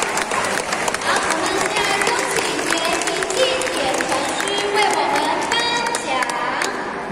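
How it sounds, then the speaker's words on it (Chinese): An indoor audience at a temple award ceremony in Tainan breaks into sustained applause, dense clapping from many hands with some cheering mixed in, continuing steadily for the whole stretch. "我们再一次用掌声来鼓励他们"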